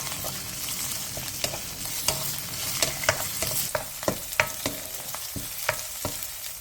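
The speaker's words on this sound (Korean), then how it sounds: "팬에 식용유 2스푼과 대파, 마늘을 넣고 약불에서 대파와 마늘이 노릇해질 때까지 볶아주세요." Chopped green onion and garlic fry on low heat in two spoons of cooking oil in a pan. A steady gentle sizzle is punctuated by repeated sharp taps and scrapes of a utensil stirring, with no speech.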